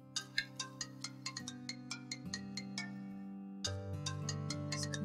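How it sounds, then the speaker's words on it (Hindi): A phone rings with an incoming call, a melodic electronic ringtone of plucked-sounding notes over sustained tones, fairly quiet and alone with no talking. "ओहो, तो आ गया आपकी उन्हों का फोन।"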